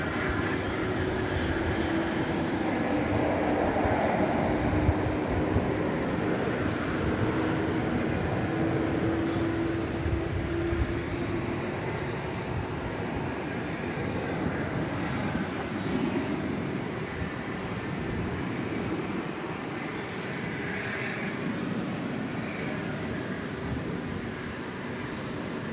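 Steady, broad rumble of aircraft at DFW Airport at night, a continuous distant jet roar holding for the whole stretch with a faint low drone and no voices.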